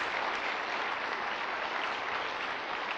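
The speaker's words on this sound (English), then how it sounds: "give those that are standing a nice round of applause." Dense, steady applause from a large retreat audience fills the room, many hands clapping together in an even wash of sound without a break or any voices.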